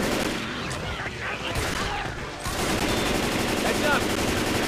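Rapid automatic gunfire in the video game Left 4 Dead 2, dense bursts of shots rattling continuously and loudly while players shout to each other over the din.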